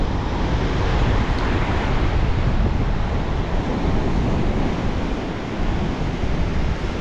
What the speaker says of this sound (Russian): И вот это вот всякие волны и так далее.